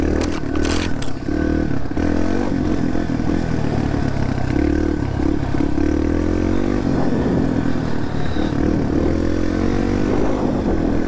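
A Yamaha TTR-230 dirt bike is ridden on trails, its single-cylinder engine droning loud and continuous up close, with a few sharp clatters early on and wind rushing past.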